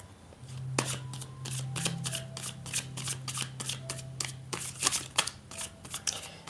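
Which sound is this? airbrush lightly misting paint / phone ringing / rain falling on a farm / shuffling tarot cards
shuffling tarot cards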